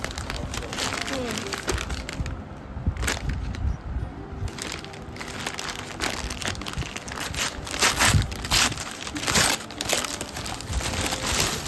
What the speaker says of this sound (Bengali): চলো আনপ্যাক করে দিই